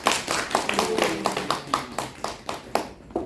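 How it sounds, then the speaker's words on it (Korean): An audience claps to welcome the opening of a spring poetry recital concert, a loud and steady run of sharp, evenly spaced claps that thins out toward the end. "모두 박수로 환영해 주시기 바랍니다."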